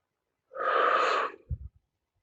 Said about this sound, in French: prenez une bonne respiration